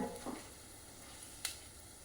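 Onions go into hot mustard oil with bitter gourd and give a quiet, steady sizzle close by, broken once by a brief sharp clink midway.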